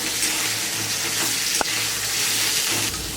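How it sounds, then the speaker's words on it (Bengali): Tomatoes and spices for chicken kosha fried in a pan, a loud, continuous sizzle close up with a brief utensil knock partway through, steady throughout. "দেখো সব কিছুকে মিলিয়ে একটু নাড়াচাড়া করে একটু ভেজে নিলাম।"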